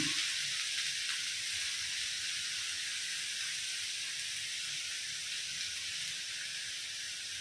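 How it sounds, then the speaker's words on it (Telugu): Cabbage and beans frying in a little oil in a kadai give off a steady, even, moderately quiet hiss and sizzle that holds unbroken throughout with no talking. "క్యాబేజ్ వేస్తున్నాను, ఇంకా బీన్స్ వేస్తున్నాను. ఎందుకంటే క్యాప్సికము తర్వాత వేసుకున్నాము, ఇవి వేద్దాం ఎందుకంటే ఈ తొందరగా ఫ్రై అవ్వదు"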